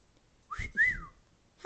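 An African grey parrot whistles two short rising-and-falling notes, clear and close, in a quiet room.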